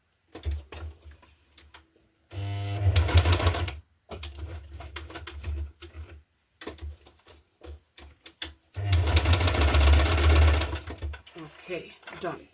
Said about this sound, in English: I will sew over the heart a bit more to make it stay in place.